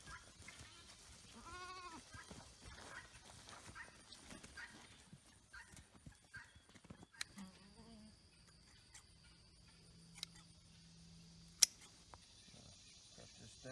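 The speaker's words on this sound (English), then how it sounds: "Just go chase 4 or 5 goats around in a pen and feel the burn." Goats in a pen give a bleat near the start, followed by scattered shuffling, thumps and sharp knocks, with insects faintly chirping and a low hum in the background.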